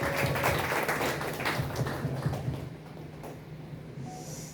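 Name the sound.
applause from party members at a meeting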